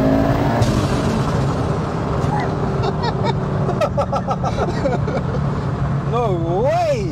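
A 1000hp Audi 80 accelerates hard in second gear with a loud, continuous engine roar heard from inside the car, rising whistling tones near the end, and voices talking over it.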